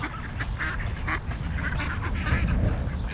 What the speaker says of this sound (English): I was just taking a little break to come out here and feed the ducks